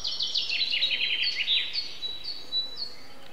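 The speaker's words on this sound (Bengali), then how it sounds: "পাখির ডাক" Birds calling among trees on a riverside near the sea, a quick run of bright high chirps followed by a few sparser tweets, fairly close over a quiet background.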